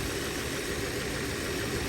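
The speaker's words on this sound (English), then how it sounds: "this will check how the alternator is doing because the engine's running" Car engine idling with its hood area open during an alternator check, a steady, even hum with broad noise and no change in pitch, moderately loud and uninterrupted, with no talking.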